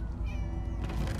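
Several cats meowing in Minecraft Story Mode, overlapping mews in a steady, loud chorus with no talking.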